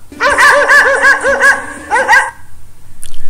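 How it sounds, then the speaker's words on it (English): Several quick dog barks in a lively burst, a short pause, then two more barks, loud and close with no talking. "The sound of dog is called bark."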